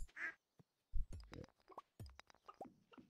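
Farm chickens in the game Stardew Valley, a few short clucking and quacking calls scattered in quick succession, close and fairly quiet against silence.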